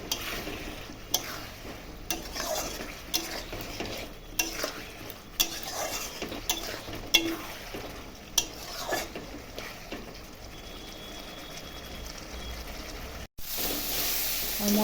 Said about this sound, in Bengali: আলু দিয়ে আবার ভালো করে মশলাটাকে আবারও কষাবো